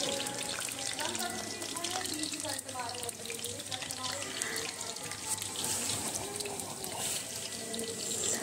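Potatoes for an aloo shimla mirch sabzi fry in hot oil over a high flame, giving a dense, steady sizzling hiss that runs unbroken throughout, with a faint voice in the background.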